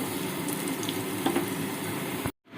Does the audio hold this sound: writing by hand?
no